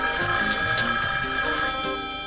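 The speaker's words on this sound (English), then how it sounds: "Answer the phone." A telephone rings with a steady electronic tone over a dense, busy background in a drama scene, continuing loudly for a couple of seconds with no talking.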